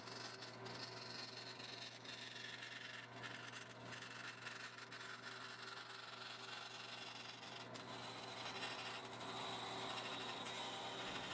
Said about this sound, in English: So just carefully cutting that as close to the lines as I can on the bandsaw.